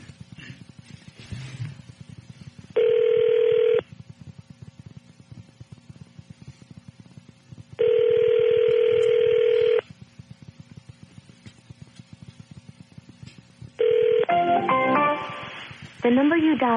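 A phone call placed on a radio show: three steady dial-tone-like bursts separated by gaps, the last one joined by a rising sequence of dialing tones, with talk in between.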